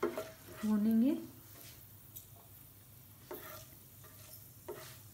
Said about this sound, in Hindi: ऑयल गरम हो गया है, अब हम इसमें मेथी दाना डाल देंगे। इसको 2 मिनट तक भूनेंगे।